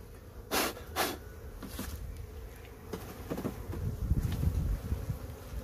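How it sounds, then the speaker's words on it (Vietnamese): A honeybee colony buzzing in a hive after being tapped, a dense low hum that swells toward the end, with a few sharp taps and knocks near the start. "Ta cứ gõ gõ này là ong nó động là nó chui xuống dưới"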